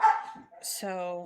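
Pet dogs scuffle and bark while playing in a nearby room, a brief yip and a drawn-out whining bark sounding under and after a single spoken word.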